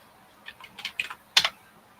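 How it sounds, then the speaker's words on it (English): Several quick keystrokes tap on a computer keyboard in a short, uneven burst, close and clear with no talking. "I was typing something."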